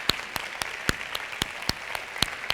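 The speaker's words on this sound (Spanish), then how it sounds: "Por favor, daros un aplauso." An audience applauds at a talk, with crisp, evenly spaced claps at about four per second, loud and close, and nothing else over them.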